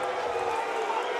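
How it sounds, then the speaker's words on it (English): A fight crowd at a SENSHI 30 Grand Prix event reacts unhappily to a judges' split decision, a dense, steady roar of many voices filling the arena at fairly loud level throughout. "Ooh, the crowd are not happy."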